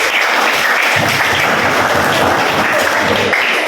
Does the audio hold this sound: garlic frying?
no